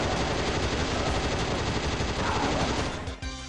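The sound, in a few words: assault rifle firing in a video game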